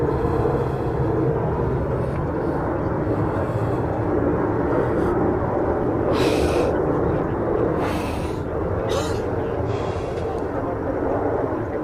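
A British Airways airliner at Nashville International Airport, its steady jet roar filling the scene, with people talking nearby throughout.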